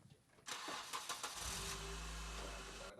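A car engine cranks and catches, then settles into a loud, steady idle with a low rumble that holds to the end.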